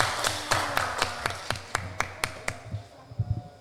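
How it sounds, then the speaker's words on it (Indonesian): Small audience at an Islamic talk about Ramadan claps in a sparse, fairly regular rhythm at moderate volume, thinning out toward the end, with no speech. "Tepuk tangan dulu."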